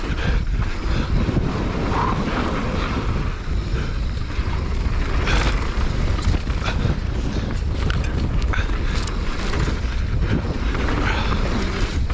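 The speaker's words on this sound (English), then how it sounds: "Unbelievably windy today, which has kind of changed our plans a bit." Strong wind buffets the microphone throughout a downhill mountain bike ride on a steep trail near Queenstown, a loud, constant roaring rush with gusty surges and no speech.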